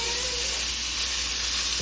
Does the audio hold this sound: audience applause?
no